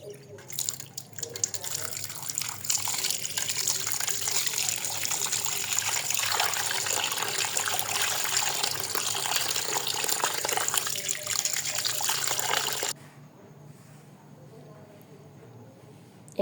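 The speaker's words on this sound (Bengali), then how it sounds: "এখন আমার মাছগুলো সুন্দর করে ধুয়ে নিব।" Cut fish are washed under a running tap, giving a loud, continuous gush of water with splashing that stops abruptly near the end and leaves a quiet room tone.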